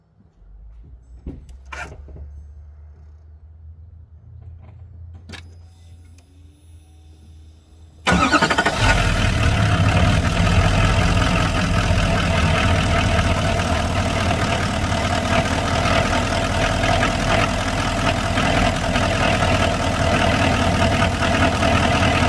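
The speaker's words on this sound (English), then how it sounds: "I'm going to start the truck up" A 2018 L5P Duramax diesel truck engine cranks and fires after a few quiet seconds of faint clicks, then settles into a loud, steady idle heard up close from a camera mounted on the engine.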